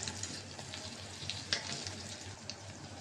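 Whole spices, bay leaves, cinnamon, cardamom, black pepper and cloves, sizzling and crackling steadily in hot oil for chicken curry, a faint continuous fry with small pops and no talking.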